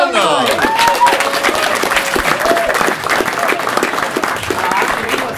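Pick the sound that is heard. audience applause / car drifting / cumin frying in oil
audience applause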